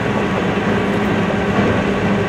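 A JR Kyoto Line rapid train running, heard from inside as a steady loud rumble of wheels and motor with a continuous roar and no break.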